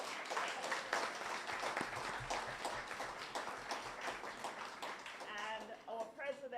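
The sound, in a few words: audience applause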